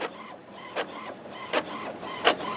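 An HP Officejet Pro inkjet printer working, with a steady whirring mechanism and a few soft clunks as the print carriage moves, close by and with no talk.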